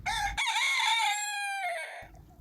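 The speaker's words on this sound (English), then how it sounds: "Then that first cock-a-doodle-doo of the morning sounds." A rooster crows loudly and close by, one long drawn-out cock-a-doodle-doo with a rising then falling strained call.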